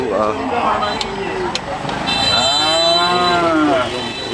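Cattle moo close by in long, drawn-out calls at a cattle market in Banshkhali, Chattogram, with a person talking amid a noisy crowd.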